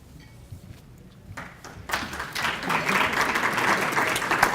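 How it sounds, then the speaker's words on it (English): Audience applause at a civic awards ceremony in Glenview, starting faintly and swelling to a steady, dense clapping from a room of people midway through. "You can save your applause till the end."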